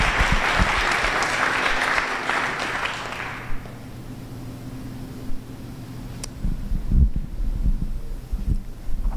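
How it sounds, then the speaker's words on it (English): Applause from an audience at a medical lecture on airway management, loud and dense for about three and a half seconds before cutting off, followed by low room rumble, handling bumps and shuffling. "Give Frank a big round of applause, running around like a maniac"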